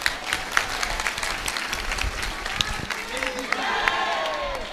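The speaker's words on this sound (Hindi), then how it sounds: "अब ताली बजाओ।" An audience claps and cheers in a crowded gathering, steady applause with loud voices and crowd noise mixed in.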